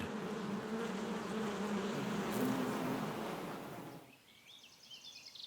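A dense, close buzzing of many honey bees in a hive fills the first four seconds, then drops away to a fainter hum with thin high chirps.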